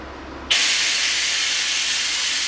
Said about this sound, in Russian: Сейчас компрессор заработает